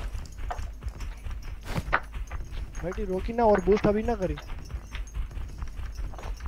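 Horse galloping in PUBG Mobile, rapid rhythmic hoofbeats running steadily under a player talking over voice chat.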